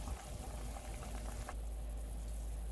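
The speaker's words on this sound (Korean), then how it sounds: "팔팔 끓으면 새알을 넣어줍니다" A pot of Korean radish soup with rice balls simmers on a rolling boil, giving a faint, steady bubbling hiss throughout. There is no talking.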